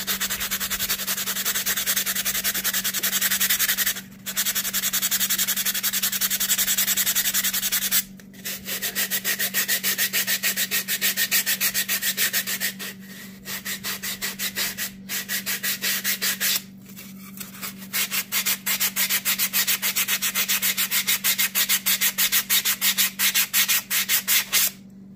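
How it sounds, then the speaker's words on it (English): Sandpaper rubs back and forth over a foam bridge abutment, a close, continuous rasping scrub that runs in long strokes with a few brief pauses between passes, no voices. "So I'm just going to take the sandpaper now"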